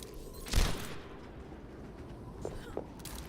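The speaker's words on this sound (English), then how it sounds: "Ooh, 2 very near shots there." Sniper rifle shots fired during a Widowmaker duel in Overwatch, with one sharp crack and then two fainter shots a moment apart, heard over low game ambience.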